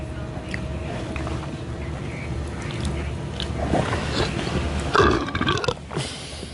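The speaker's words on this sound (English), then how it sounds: "You burp like a guy." A woman lets out a loud, deep belch near the end, rumbling for about a second close to the microphone, after a stretch of low background noise and faint indistinct sounds.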